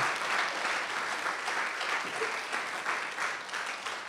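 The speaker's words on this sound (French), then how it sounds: "Est-ce qu'on peut acclamer ce grand Dieu vivant" A church congregation claps and applauds in praise of God, a steady, dense wash of clapping that holds evenly throughout without any speech over it.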